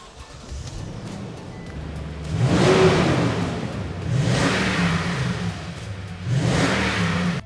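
A 2018 Toyota Tundra Limited CrewMax 4WD pickup revs its engine three times, each rise swelling into a loud throaty roar and then settling back to a steady idle between bursts.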